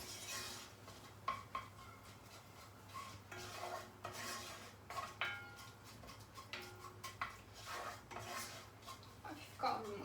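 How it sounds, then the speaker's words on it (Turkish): Spoon stirring tomato paste and spices in a cooking pot, with light scraping and clinking of utensil against metal in short irregular bursts, close and fairly quiet over a steady low kitchen hum. "Şöyle bunları karıştırıyorum."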